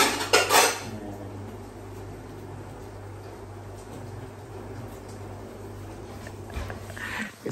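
Steady sizzling of nasi goreng udang, rice and shrimp frying in a pan, with clattering of a utensil against the pan at the start and again near the end.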